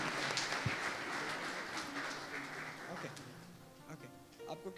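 A church congregation claps in a burst of applause that thins out toward the end, with a voice speaking over it.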